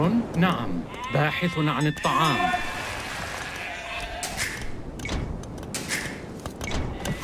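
Sheep in the Age of Empires strategy game bleat several times in quick, wavering calls early on, then the sound settles into a busy game soundscape with scattered thumps and clicks.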